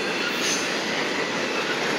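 Norfolk Southern freight train passing close by, a steady loud broadband rumble of rolling railcars with faint wheel squeal and no gaps, no voices.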